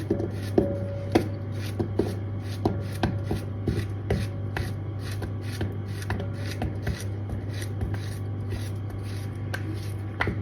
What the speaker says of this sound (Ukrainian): нарізаємо